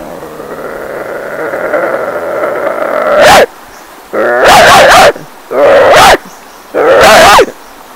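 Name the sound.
man imitating village dog growling and barking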